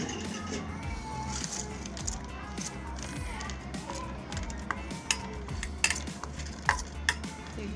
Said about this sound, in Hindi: ये 2 टीस्पून मैंने कॉर्नफ्लोर लिया है, इसको मैं मिक्स कर लूँ।